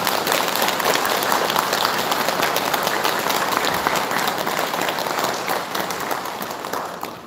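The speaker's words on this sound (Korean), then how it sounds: "다시 한번 찬탄의 박수 부탁드립니다" Sustained applause from a congregation at a Buddhist dharma service, a dense steady wash of many hands clapping that holds loud throughout and tapers only slightly near the end, with no talking.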